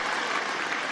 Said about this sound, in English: we have to wait like 10 seconds for everyone to get done cheering